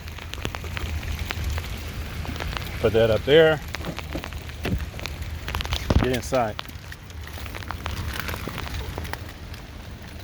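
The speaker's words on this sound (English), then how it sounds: "It is raining." Steady rain falling and pattering on surfaces outdoors, a continuous close hiss with scattered drips, while someone speaks briefly over it.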